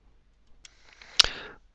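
A single sharp computer mouse click lands just past the middle of a quiet moment, followed by a faint rustle.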